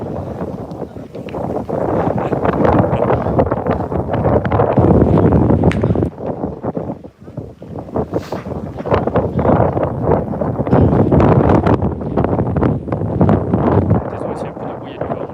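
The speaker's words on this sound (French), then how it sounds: "Désolé, c'est un peu de bruit et du vent aujourd'hui." Heavy wind buffeting a microphone outdoors during a Provençal boules game, a loud continuous rumbling roar with brief dips, while people talk underneath.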